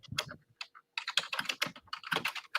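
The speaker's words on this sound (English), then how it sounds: "are you typing?" Typing on a computer keyboard picked up by an open microphone on a group call, irregular bursts of close, crisp keystrokes separated by short pauses, with no voices.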